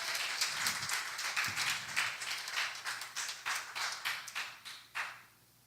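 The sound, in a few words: applause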